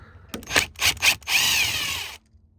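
A power tool zips off bolts on a Volvo VNL truck during turn signal switch work, several short whirring bursts followed by one longer run, close and loud, then stopping abruptly.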